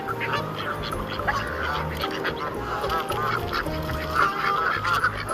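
A duck quacks in short honking calls over steady background music with a children's learning-song feel, the calls repeating through the clip.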